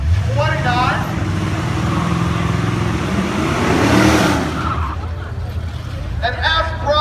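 A 2.3-liter four-cylinder box-body coupe with rusty weight reduction launches down a drag strip, its loud engine roaring steadily throughout, with an announcer talking over it.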